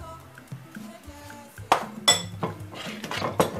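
Plantain cookie mixture being mashed in a bowl, heard as close metal clinks and scrapes of a utensil against the dish, with several sharp knocks and clatters in the second half.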